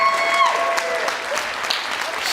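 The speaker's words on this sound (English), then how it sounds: "Can we give that another round of applause?" Audience applause at a Palomar College keynote talk, a steady wash of clapping from many hands in a hall, with faint whistle-like tones and a murmur of voices underneath.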